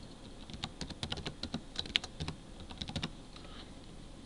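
Close computer keyboard typing as a material name is entered in Patran software, with quick irregular clicks in bursts and a short pause near the end, with no voices.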